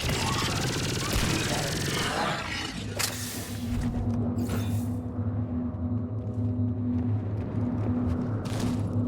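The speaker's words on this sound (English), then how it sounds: "Not with this intense bombardment." Intense bombardment in a space shooter video game, a dense roaring barrage of blasts that cuts off abruptly, leaving a low humming drone with scattered bursts afterward.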